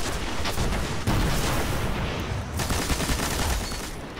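Dense gunfire and explosions in the Destiny video game, a continuous loud barrage of overlapping shots and booms with brief sharp jolts, no voices over it.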